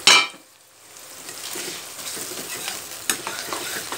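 Onions frying in a home kitchen pan, a steady close sizzle with stirring and light utensil scrapes; a sharp clatter opens it, then a brief lull before the frying builds again.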